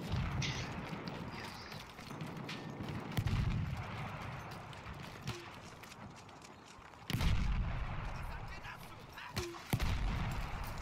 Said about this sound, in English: Yeah, the field gun over there.